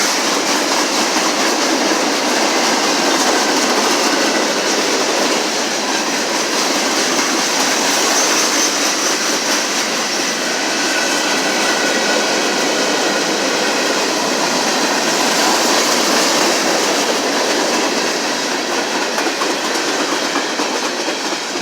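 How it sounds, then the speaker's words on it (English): A short CSX freight train rolls past the Effingham, Illinois station, a loud continuous rumble of wheels and cars close by, steady for the whole stretch with no talk. "Definitely a short train."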